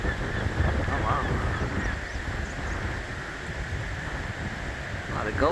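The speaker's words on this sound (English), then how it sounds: "A lot of gulls." Gulls call over wind noise along a park trail in Door County, Wisconsin, a few high wavering cries near the start and end, moderately distant against steady wind rumble.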